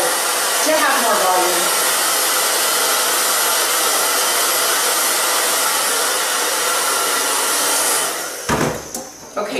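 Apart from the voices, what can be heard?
hair dryer blow-drying hair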